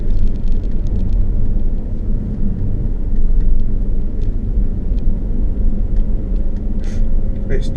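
A Tesla Model S P90D driving, a loud, steady low road rumble with tire and wind noise filling the cabin throughout, with a few faint clicks on top.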